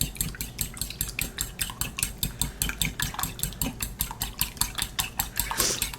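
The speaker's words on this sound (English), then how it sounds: "So let me get the eggs cracked and in the bowl, stirred up" Eggs whisked briskly in a bowl, a steady rapid rhythm of utensil clicks against the sides, close and fairly loud with no talking.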